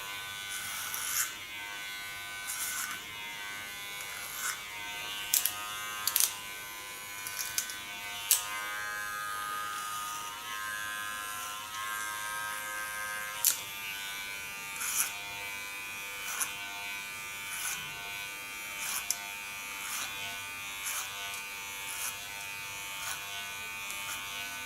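Electric hair clippers buzz steadily with the blade set in the combing position while cutting an ultra-short neckline, a constant close whine broken by brief sharp clicks and bumps as the clipper moves.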